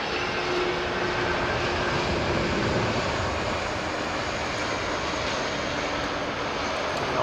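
An Airbus airliner at London Heathrow Airport produces a loud, sustained broadband engine roar with faint whining tones, steady and close throughout with no voices.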